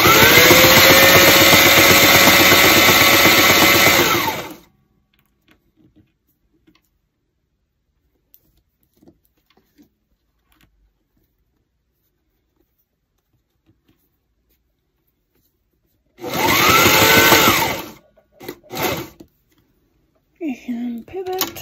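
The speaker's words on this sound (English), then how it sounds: "Sew down the other end." A sewing machine stitches embroidery on a fringed ammo bag in loud, close bursts of whirring motor with rapid ticking, one run of several seconds, a long pause, then shorter stop-start bursts.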